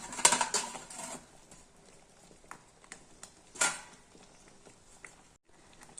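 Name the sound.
stirring milk in a pot while making kheer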